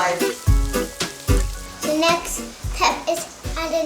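Onions caramelizing in a pan give a steady, close sizzle, broken by stirring scrapes and clatters, while a child and an adult talk over the frying.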